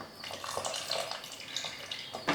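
Soaked asafoetida water is poured into kanji vathal batter, a soft continuous close splashing and trickling over a couple of seconds, ending with a brief knock.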